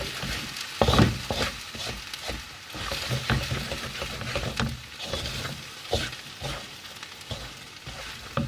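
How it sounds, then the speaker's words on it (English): Nasi goreng fried rice stirred in a hot pan, with a steady sizzle and repeated scraping and clacking of the utensil against the pan, close and continuous, with no talking. "We're gonna turn up the heat, stir it about a bit."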